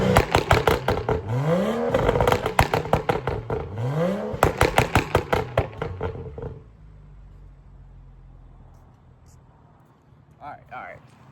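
BMW M235i engine on a catless downpipe with MHD map 4, revving hard in repeated sharp bursts with rising roars for about six seconds, then settling to a low idle rumble.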